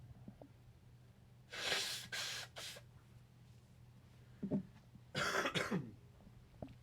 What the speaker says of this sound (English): Let's take a deep breath while I blow my nose.